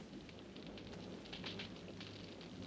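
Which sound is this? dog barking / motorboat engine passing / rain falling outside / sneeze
rain falling outside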